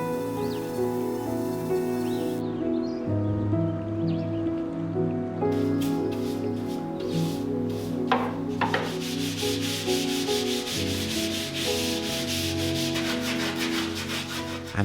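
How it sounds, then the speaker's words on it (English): Sandpaper rubs back and forth by hand over an antique wooden dresser, a continuous close scratchy rasp with shifting strokes and tone throughout. "I spent many hours hand sanding and refining all the unique details to the best of my ability"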